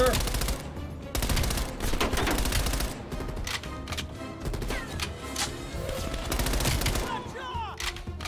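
Dense gunfire from the video game Call of Duty Black Ops Cold War rattles in loud overlapping bursts and single shots, mixed with explosions and game effects, nearly continuous throughout.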